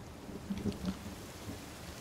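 Rain falls in the survival video game The Forest as a steady, dense hiss throughout, with a few soft low rumbles that could be distant thunder.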